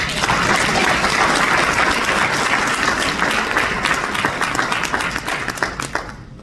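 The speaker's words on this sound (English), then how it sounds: "Let's give them a hand of applause." A large audience applauds warmly at a formal youth breakfast honoring scholarship recipients, dense sustained clapping filling the room before tapering slightly near the end.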